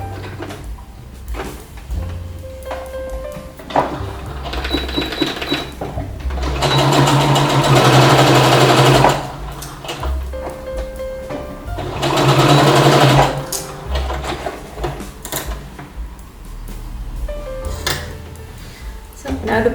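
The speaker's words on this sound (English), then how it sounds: "to pin it and then sew it and do the same for the other side of the pants" A sewing machine stitches pants in two long loud whirring runs, with shorter bursts, clicks and fabric handling around them, while a person talks over parts of it.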